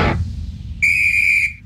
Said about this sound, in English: Ref's whistle.